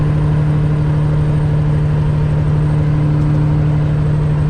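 Heavy truck engine laboring hard in a high gear while climbing a Virginia mountain grade, a loud steady low drone and rumble held at constant strain throughout, no voices.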